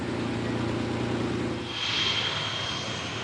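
Steady jet engine roar of a fighter aircraft with a sophisticated turbofan, a low rumble that gives way to a rising high whine partway through, loud and continuous with no voices.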